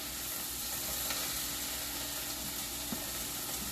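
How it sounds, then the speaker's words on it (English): A pan of chicken pot pie filling is stirred, giving a dense, continuous close sizzle and hiss with faint occasional scrapes of the utensil and no voices. "Let's give this another quick"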